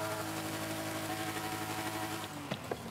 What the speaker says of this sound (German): der Klang, also der Autoklang, sich da auch ein bisschen verändert